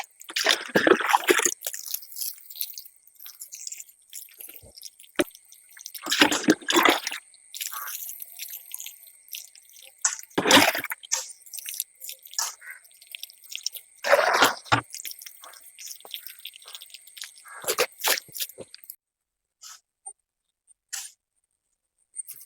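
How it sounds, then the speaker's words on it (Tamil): Water being sprayed by hand over a soil bed before chili seedlings are planted, coming in repeated wet bursts of splashing and dripping separated by quieter gaps, close by. "வெறும் தண்ணியே தெளிக்கிறேன்"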